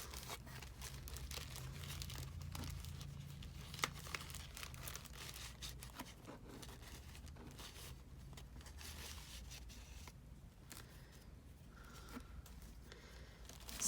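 Soft crinkling and rustling of blank paper sticky notes and small card bits being handled close by, a faint continuous shuffle with occasional crisp taps and scrapes, no voices.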